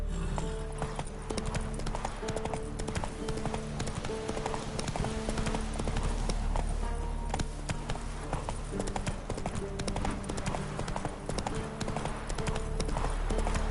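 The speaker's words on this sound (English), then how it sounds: "Whoa there, Roach" Horse trotting in the video game The Witcher 3, a steady rhythmic clip-clop of hooves that runs throughout, with faint game background sound.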